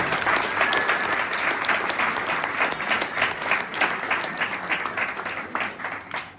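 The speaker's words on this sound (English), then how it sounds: "Keep those applause going for Paul Myler." A pub crowd at a politics evening applauds steadily and loudly, a dense wash of many hands clapping close by that carries on evenly throughout with no talk over it.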